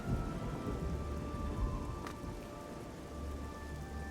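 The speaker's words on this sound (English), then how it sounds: "now I really have to look inside because of the rain" Rain and thunder in the video game Elder Scrolls IV: Oblivion, with steady rain hissing on surfaces and low thunder rumbling beneath it, plus a brief sharp tone midway.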